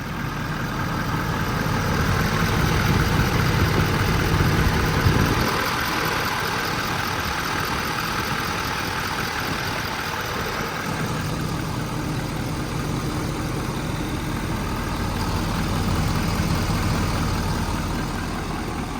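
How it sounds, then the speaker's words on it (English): The heavy diesel engine of a 2019 Ford F-550 4WD service truck with crane rumbles steadily at idle while reversing, low and continuous, with a slight shift in tone partway through as it maneuvers slowly. "I'm going to back the truck into its spot"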